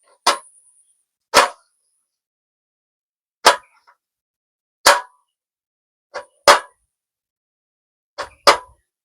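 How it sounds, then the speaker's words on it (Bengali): A knife chops a tomato into pieces, landing about eight sharp, separate cuts at an uneven pace, close and fairly loud with quiet gaps between them and no talking. "এইভাবে টুকরো টুকরো করে কেটে নিচ্ছি টমেটোটা"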